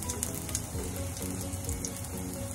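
Shrimp sizzle steadily in a hot frying pan as they cook toward golden brown, a close, continuous crackling hiss with no talking over it.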